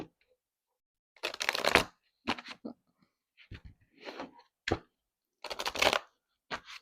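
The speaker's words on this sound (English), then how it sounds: "Give me one more shuffle for Aries." Tarot cards being shuffled by hand: several separate riffling and flicking bursts of varying length, close and crisp, with quiet gaps between them and no talking.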